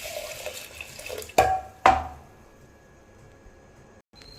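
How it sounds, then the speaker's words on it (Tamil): Water pours into a pressure cooker holding garlic, green chillies, tomato and turmeric, giving a short splashing gush with two sharper metallic splashes, then a faint trickle. "தேவையான அளவுக்கு தண்ணிங்க."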